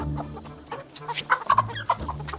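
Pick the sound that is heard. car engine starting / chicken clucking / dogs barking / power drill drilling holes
chicken clucking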